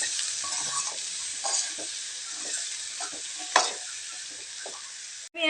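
Peas being stirred in a frying pan, with a constant hiss of sizzling and soft, irregular scraping strokes, one sharper clatter midway, close and steady.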